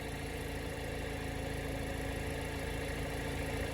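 Car engine idling to warm up on a snowy Canadian day, a steady, dense mechanical hum and whir that holds constant throughout with no voices.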